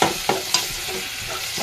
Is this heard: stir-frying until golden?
yes